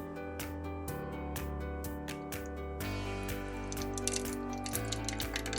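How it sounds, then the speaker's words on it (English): Purple coloured liquid latex pours into an empty bottle, a continuous trickling fill with small drips and splashes, close up, and the tone shifts midway as the pour changes. "Get your empty bottle and then just pour it in."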